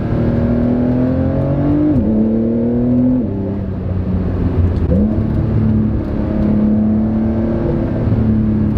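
A 2020 Porsche 911 (992 generation) engine pulls hard in second gear, its loud, rising tone sweeping upward with quick gear changes breaking the pitch around the two- and three-second marks, continuous and close with no talking.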